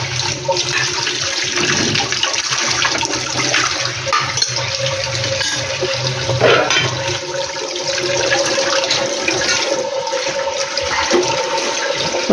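A kitchen tap runs steadily and loudly while dishes are washed, water splashing in a continuous broad rush with small clatters throughout and no voices.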